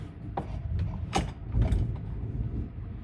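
Thumb screws turned by hand into a Polaris spare belt holder, giving soft mechanical creaks and ratcheting scrapes in several bursts, close up and fairly quiet with no talking.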